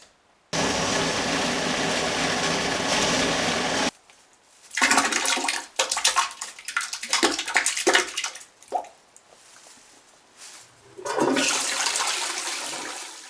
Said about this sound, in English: With just a few flushes, your victims' remains are disposed of forever by the Great British Sewage System